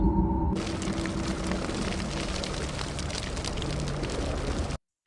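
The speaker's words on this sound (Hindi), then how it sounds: "एक जोरदार धमाके के साथ नसीर ने खुद को आग लगा दी" A loud, roaring blast of broadband noise with rumbling low end sustains for several seconds, like an explosion with crackling fire, then cuts off abruptly.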